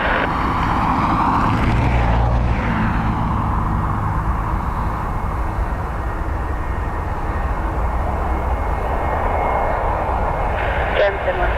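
A passenger jet in silver SkyTeam livery at Dublin Airport fills the air with loud, continuous engine roar, steady and close, with a whining high tone rising and fading over the rumble.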